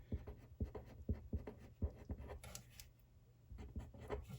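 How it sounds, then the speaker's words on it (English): A pen writing in a spiral planner, close up: a run of short scratchy strokes with small pauses, a quieter gap in the middle, then a few more strokes. No talking. "I'll just write that, planning"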